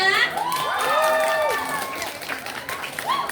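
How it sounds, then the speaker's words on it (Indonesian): Crowd noise with cheering and shouting swells at once and stays loud, carrying a scattered clapping texture beneath the raised voices. "Beri tepuk tangan untuk paslon 3."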